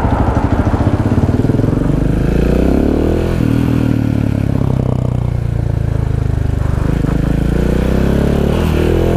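A Yamaha R1 motorcycle restricted to 48 PS roars loudly up close, its engine revving and climbing in pitch, then easing back and rising again in a continuous throaty drone.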